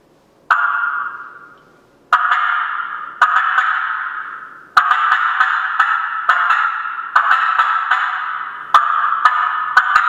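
Bursts of sharp, rapid clucking from a mouth call imitating an excited hen turkey cutting, repeated in short groups with brief pauses between, close and loud.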